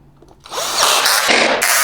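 A power drill drives screws back into a Veteran Patton-S or Lynx-S electric unicycle wheel, a close, loud whirring burst that rises in pitch and shifts as the screw seats.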